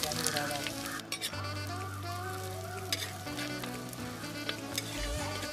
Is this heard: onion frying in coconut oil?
yes